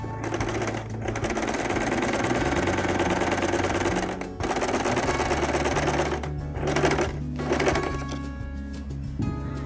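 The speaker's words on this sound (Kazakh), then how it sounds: "Бір-біріне екі қабаттап қосып, шетінен тігіп шығамыз 1 сантиметрлік тігіспен." A sewing machine stitches two layered fabric bag pieces with a seam, running in rapid, steady mechanical bursts with short pauses and restarts, close and clear.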